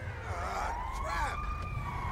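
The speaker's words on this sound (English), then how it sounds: "Okay, the ambulance is here." A wailing emergency siren from an ambulance arriving in GTA 5 sweeps up and down continuously and loudly, with traffic rumble beneath it.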